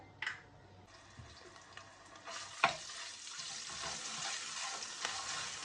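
Ginger garlic paste sizzles and crackles in hot oil at a low level, with a few stirring scrapes and clinks of a spoon.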